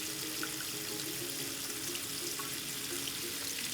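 Dried lentils being rinsed under a running kitchen tap for curry lentil soup: a steady, close, unbroken hiss of flowing water and splashing in a sink, with no talking.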